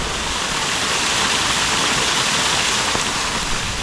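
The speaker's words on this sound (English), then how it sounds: "that little waterfall across the track there is normally barely even a trickle" A small waterfall swollen by heavy rain spills across a track under dense bush canopy, a steady, close, full rushing hiss that never lets up, with no voices.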